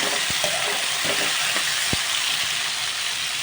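Large chopped tomato pieces frying in a pan, a loud steady hiss and sizzle close up, broken by a few brief knocks and clicks from the pan.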